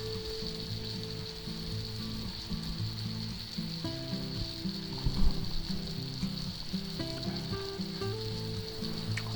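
Minced garlic sizzles in a pan with mushrooms and onions, a steady, close frying hiss with occasional stirring clinks over faint tonal background sound.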